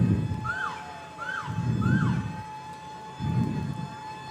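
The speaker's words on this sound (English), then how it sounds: "Oh, here comes the fire truck. Oh, here comes an ambulance." Fire truck and ambulance sirens wail past in three repeated rising-and-falling sweeps, loud and fairly close, with a rumbling engine swelling under each sweep.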